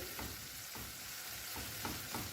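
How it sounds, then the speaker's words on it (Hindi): Tomatoes are stirred in a cooking pot while making haleem, giving a quiet continuous sizzle broken by soft periodic scrapes of a spoon, faint and with no voices. "थोड़ा सा टमाटर को मिक्स कर रही हूँ मैं इस तरीके से"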